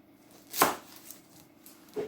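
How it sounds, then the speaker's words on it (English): Onion chopped on a board, two distinct knife strikes about a second and a half apart, close and clear against near silence. "This is what you're going to need to do with the onions. Just chop over end"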